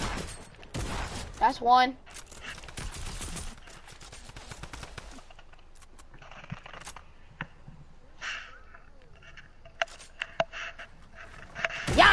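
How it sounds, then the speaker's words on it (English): Gunfire in the Fortnite John Wick limited-time mode: bursts of close, sharp shots crackle in quick clusters between stretches of quieter game noise, with a player talking over the action. "Stop shooting at me, bro."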